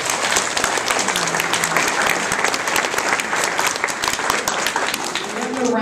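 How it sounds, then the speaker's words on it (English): A crowd at a school assembly gives loud, sustained applause, steady clapping filling the room with some voices mixed in. "Give them one more round of applause."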